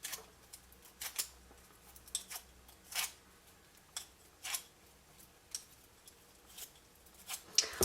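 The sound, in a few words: paper petals curled with a bone folder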